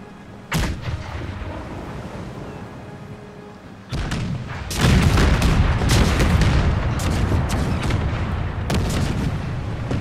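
Heavy booming cannon blasts from a ship's broadside in the video game Empire: Total War erupt one after another, loud and close, with a dense rumbling barrage building after the first few shots.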